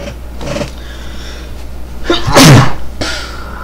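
A single loud, sharp sneeze bursts out close by after a couple of quieter breaths, standing alone against a faint background hum.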